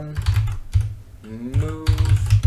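Quick bursts of keystrokes on a computer keyboard while typing x86 assembly code, clustered clicks with short pauses between runs, close and clear with no talking.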